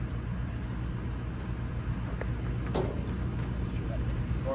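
A 2021 Caterpillar 336GC excavator runs with a steady low engine drone and faint metallic clanks, a close continuous rumble with occasional light knocks on top.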